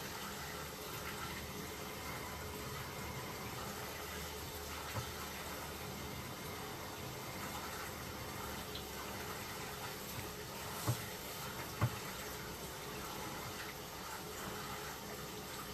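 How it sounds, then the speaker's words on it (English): Water steadily running out the bottom of a sewer pipe during an inspection, a constant faint trickling rush with a couple of brief knocks. "there is water exiting down the bottom of the pipe"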